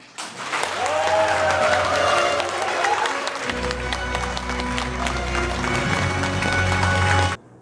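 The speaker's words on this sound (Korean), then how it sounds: "공약 아카데미의 종강식을 번화 박수로 시작하겠습니다." A crowd applauds to open an academy closing ceremony, with steady clapping that runs alongside music or a tonal backing and a low hum, then cuts off abruptly.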